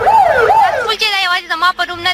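Pakistani emergency vehicle sirens wail loudly and close, with two rising-falling sweeps followed by a faster warbling yelp that stutters and cuts out several times.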